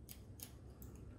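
Scissors snip through hair during a salon haircut in three quick, crisp cuts spaced evenly apart, close and fairly soft, with no talking.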